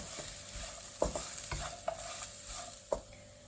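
Turmeric and coriander powder fry with onions in a pan for beef pollichathu, a Kerala dish, with quiet steady sizzling broken by several sharp clinks and scrapes of a stirring spoon.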